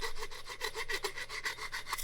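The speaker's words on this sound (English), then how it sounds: "give these bolts a file. Make sure there's no edges." Steel bolts for a Stumpf fiddle being filed by hand to knock off burrs and sharp edges, a steady series of about a dozen quick rasping strokes, close and fairly quiet, with no talking.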